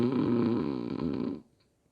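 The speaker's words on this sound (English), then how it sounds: "A loud snore suddenly came from the back of the classroom." A loud, single drawn-out snore from a sleeping boy in a classroom, rough and rattling for over a second before cutting off to near silence.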